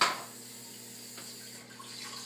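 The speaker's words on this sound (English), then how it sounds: "Turn the sink on." Kitchen sink tap turned on, water rushing steadily from the faucet into the basin at close range after a brief splashy onset, no voices.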